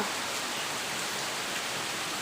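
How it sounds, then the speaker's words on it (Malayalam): Heavy rain pours down in a dense, unbroken hiss, loud and steady throughout with no other sounds. "നല്ല മഴയാണ് കേട്ടോ"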